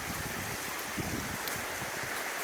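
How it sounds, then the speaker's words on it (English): Waterfall at Fairy Falls with water cutting straight through a cleared channel, a steady broadband rushing wash, moderately distant and fairly soft, with no talk. "there's another waterfall right there"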